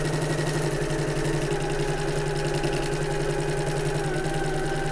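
A sewing machine runs nonstop at a steady, rapid rhythm, stitching a bag seam with a continuous mechanical whir and needle patter, close and even, with no voices.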